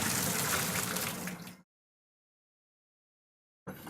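Water from blanched asparagus poured off through a strainer, a loud rushing splash for about a second and a half that cuts off abruptly, followed by silence.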